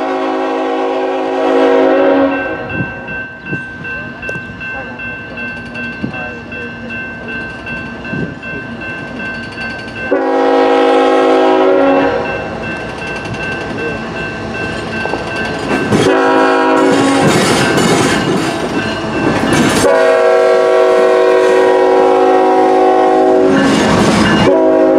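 A southbound intermodal freight train rolls by with loud, repeated horn blasts over the clatter and rumble of wheels, the horn sounding several times in bursts.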